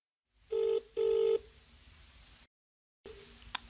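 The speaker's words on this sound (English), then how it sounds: "He is phoning her for directions." A telephone rings for someone phoning for directions: a close double burst of ring tone, a short pause, then another ring starting near the end.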